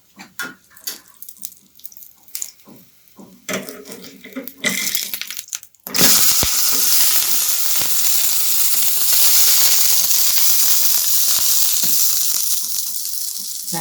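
Moong dal methi chilla batter sizzles steadily in a hot pan, loud, continuous frying hiss after some brief clatter and handling sounds.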